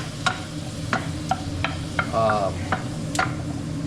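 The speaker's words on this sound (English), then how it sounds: "the food bits off the bottom of the pan, and incorporate them into your onions and garlic" Onions and garlic sizzling in a pan while a utensil scrapes browned bits off the bottom, a soft steady fry under a series of sharp scraping strokes and a brief clatter, close, without talk.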